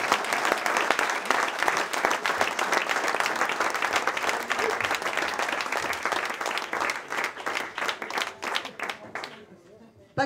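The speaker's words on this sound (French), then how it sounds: "je pense qu'on peut tous t'applaudir très fort." Dense audience applause at a prize ceremony for a TeeBreak event, many hands clapping continuously for several seconds before thinning into scattered claps and fading out, with some voices mixed in.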